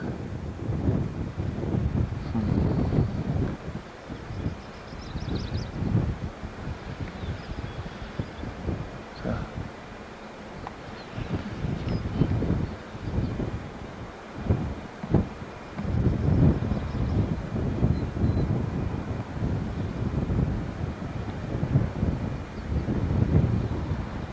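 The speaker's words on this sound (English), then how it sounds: "Get around here in a different canyon, and the wind is blowing pretty good." Wind gusting through a canyon in Glacier National Park, buffeting the microphone in uneven rumbling surges that rise and fall, with no talking.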